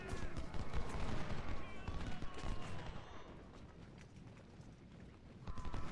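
Massed Civil War musket volleys at Gettysburg in Ultimate General: Civil War, dense crackling fusillades with rolling rumble, continuous and fairly distant, fading slightly then swelling again near the end.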